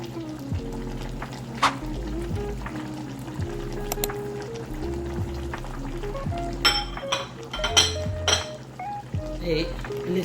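Leek and other vegetables added to a pot of poulet DG, soft sizzling and stirring with occasional clinks of a utensil against the pot, heard under a person talking.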